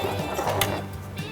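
Sewing machine stitching a small bralette piece, a brief steady mechanical whir with a faint rhythmic ticking, close and continuous.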